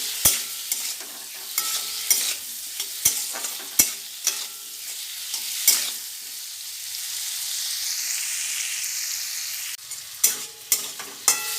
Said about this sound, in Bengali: এবার কেটে রাখা টমেটো কুচি দিয়ে দিয়েছি এই টমেটোর সঙ্গে আলুটা আর একটু ভালো করে নাড়িয়ে নেব